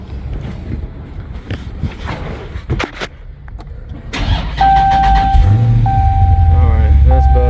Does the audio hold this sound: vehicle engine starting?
yes